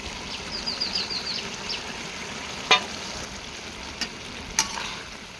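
Mustard paste is stirred into a vegetarian curry of Malabar spinach fruit, aubergine and potato frying in a pan, giving a steady soft sizzle with a few sharp scraping knocks of the spatula, close and without speech.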